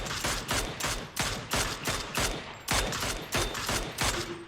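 Repeated bursts of automatic gunfire in the PUBG battle royale game, about eight sharp volleys in a steady rhythm, loud and close, with no talk.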